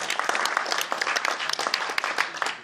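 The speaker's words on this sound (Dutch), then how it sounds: "applaus." Audience applause following a startup funding pitch for a press innovation fund: dense, steady clapping from a small crowd throughout, fairly close and moderately loud, with a faint voice briefly underneath.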